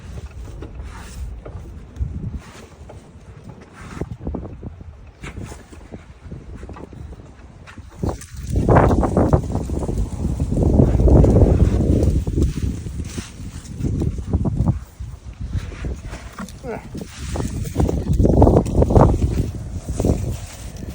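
An older machine mulches and bags yard debris during a spring cleanup, making loud, rough, crunching surges that rise and fall unevenly over a low mechanical rumble.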